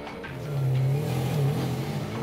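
A car engine races as the vehicle speeds along with failed brakes, a steady loud motor drone rising and holding pitch with some road noise, no talk over it.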